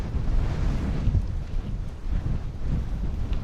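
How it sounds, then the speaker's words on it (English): Strong Mistral headwind buffets the microphone of a rider cycling on a road in southern France, a loud continuous low rumble with gusty swells. "it's quite windy where I am at the moment."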